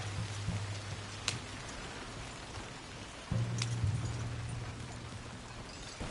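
Horse hooves trot in a video game, a soft rhythmic clip-clop running through the scene over a low background rumble and faint ambient noise, with no speech.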